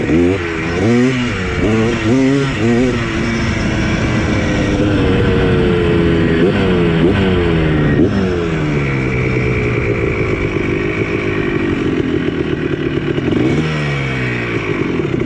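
Honda ATC250R 1980s two-stroke three-wheeler engine running loud and close, with a buzzy, rising and falling rev pitch that holds steady through the middle and flutters again near the end, no voices.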